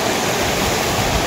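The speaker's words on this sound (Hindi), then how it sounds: "पानी का प्रेशर चेक किया आपने बहाव?" Strong flowing water after heavy rain in Kashmir rushes in a dense, steady roar, loud and continuous with no voices.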